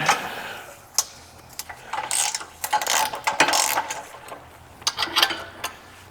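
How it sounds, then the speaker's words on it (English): A 9/16 wrench and socket work on bolts holding plates on a double hydraulic PWC lift, producing close metallic ratcheting clicks and clinks in irregular bursts with short pauses between them. "I'm going to use my 9/16 wrench and socket"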